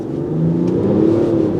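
A Range Rover (L322 or L460) launches hard off a brake boost, its engine giving a loud, sustained rising drone close by with no voices over it.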